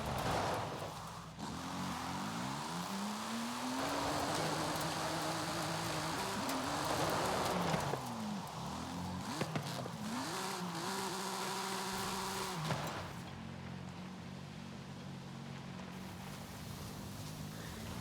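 A car engine in Forza Horizon 5, drifting down a mountain road, revs and sweeps up and down in pitch over about eighteen seconds, fairly faint and continuous.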